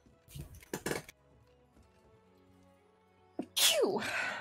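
A sneeze bursts out loudly near the end, set within a Monster Hunter: World game session, after brief scattered sounds and a quiet stretch.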